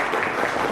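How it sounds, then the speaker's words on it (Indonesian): Dense, steady clapping from a crowd at a university law faculty event, continuous and fairly loud throughout the short moment. "Tepuk tangan dulu dong."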